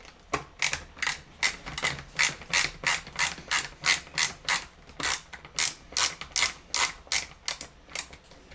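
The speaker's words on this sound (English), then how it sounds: "Hey, I love this ratcheting screwdriver." Ratcheting screwdriver clicking steadily while backing bolts out of a Bissell CleanView Swivel Rewind Pet 2254L vacuum, a close, rapid series of sharp ratchet-pawl ticks in regular bursts, with no talking.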